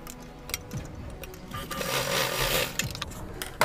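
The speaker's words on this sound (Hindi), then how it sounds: "अब इसके ऊपर एक सिलाई लगाएंगे" A sewing machine runs a seam across a cloth face mask, starting with a few short clicks and bursts, then a sustained mechanical whir that swells and fades, with light taps and knocks from handling the fabric close by.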